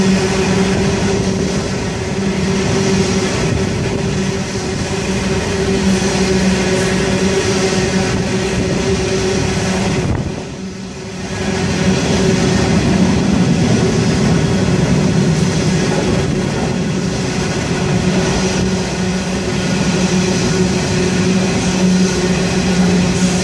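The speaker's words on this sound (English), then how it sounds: "Empty coal train in the opposite direction." Long, steady rumble of an empty coal freight train rolling past, heavy low diesel engine drone and rail noise throughout, with a brief dip midway.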